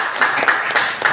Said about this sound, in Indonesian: Tepuk tangan untuk guru-guru kita dulu.